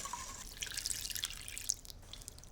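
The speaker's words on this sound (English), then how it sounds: "now I put all this fabulous custard on." Custard being poured over a croissant bread pudding in a kitchen, a soft wet pattering and dripping of liquid that swells for a couple of seconds and then tails off, close and fairly quiet.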